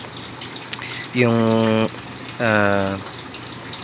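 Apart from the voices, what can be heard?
water being poured into an air cooler fan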